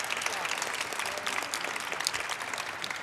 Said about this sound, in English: let's give them a big round of applause for showing up today